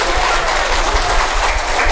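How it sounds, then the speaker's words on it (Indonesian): An audience at a Balinese Hindu temple festival sermon claps loudly, a short burst of dense, continuous applause filling the whole span. "tepuk tangannya kencang dulu"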